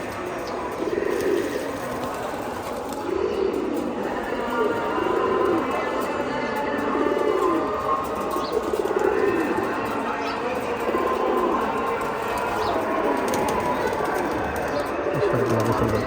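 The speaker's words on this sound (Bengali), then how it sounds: "গোসল করতেছে কবুতরগুলা" Pigeons bathing in a large tray of water let out a steady run of low, rhythmic coos close by, with splashing and background murmur under a voice.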